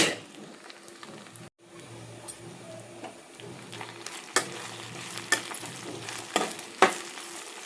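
Cut idli pieces fry in oil in a kadai, a close, steady sizzle broken by several sharp scrapes and clicks of a spoon stirring against the pan, with no one speaking.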